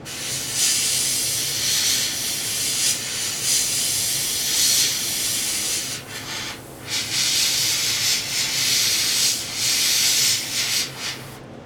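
Paint spray gun hissing steadily while spraying a C6 Corvette, a continuous close airy hiss with brief pauses and trigger releases, running alone without talk.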